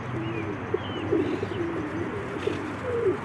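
Pigeons coo in soft, low, repeated calls from birds close by, over a steady outdoor background hum, with a few faint chirps mixed in.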